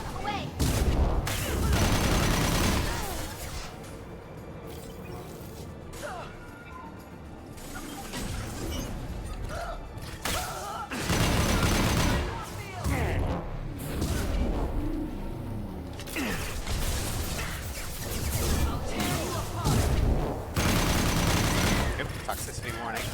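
Gunfire in the video game Mass Effect Legendary Edition 2 comes as repeated bursts of shots and crashes through a dense, loud battle mix, with in-game voices speaking over it.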